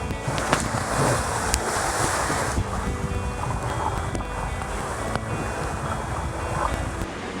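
Wind roars steadily around a sailboat beating hard against it on the Aegean toward Donousa, with wave wash and gusty microphone buffeting, a few sharp knocks and rattles scattered through the loud, continuous noise.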